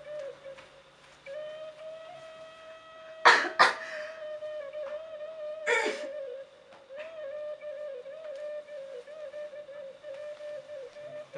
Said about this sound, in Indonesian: Ini hanya batuk biasa saja.